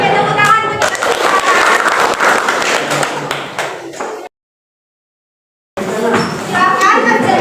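A classroom of children claps and chatters noisily for several seconds, then cuts to silence before more lively class noise returns.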